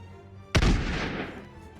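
A cannon fires once in the battle video game Totally Accurate Battle Simulator, a sudden loud boom with a booming low thump that fades over about a second.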